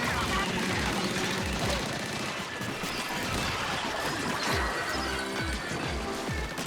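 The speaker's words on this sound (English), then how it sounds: "I basically just have an SMG. This is literally what this is. I have a mini SMG" Rapid mini SMG gunfire in the video game Splatoon Raiders, a dense, continuous burst of shots layered with loud game effects and impacts throughout.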